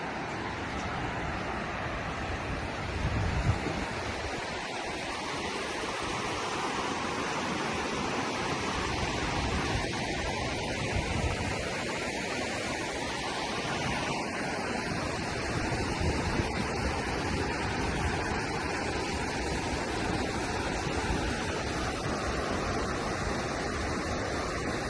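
Takakaw Falls in Alberta roars as a dense, unbroken rush of falling water, loud and constant throughout with no breaks.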